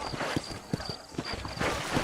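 Horse hooves clip-clop in a steady walking rhythm in the Red Dead Redemption western game, close and fairly loud, with a brief whinny-like sound and a faint background tone.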